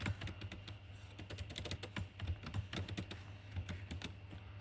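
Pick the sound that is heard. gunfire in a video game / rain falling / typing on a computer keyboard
typing on a computer keyboard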